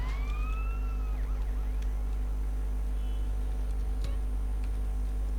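A police siren from the GTA San Andreas video game wails briefly at the start, sweeping down and fading within about a second, then low game hum and faint clatter continue.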